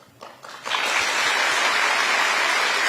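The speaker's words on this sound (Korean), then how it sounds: "여러분 다시 한번 박수 부탁드립니다" Dense audience applause swells in after a brief quiet start and holds steady and loud, a hall full of new public servants clapping for the president.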